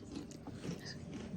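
Close, quiet crunching of Deep River Snacks pink Himalayan salt and vinegar potato chips being chewed, a brief run of crisp bites alone without talk.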